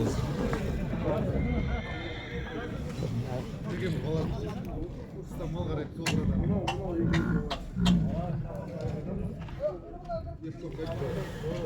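Stallions and mares neigh and whinny repeatedly, close by, with hoof clops and people talking over a busy outdoor livestock market background in Shymkent.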